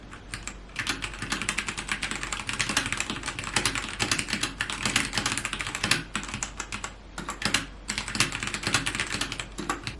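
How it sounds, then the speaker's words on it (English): Fast, steady typing on a mechanical keyboard with brown switches, close up, with dense clacky keystrokes in irregular bursts and brief pauses. "I picked the version with brown switches because personally it's just the sound that I prefer."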